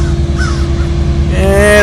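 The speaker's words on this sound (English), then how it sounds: "Y'all hear the vultures and all this kind of stuff back here, man." Vultures calling outdoors in Florida, a few hoarse, nasal cries close by over a steady low background rumble, brief and loud.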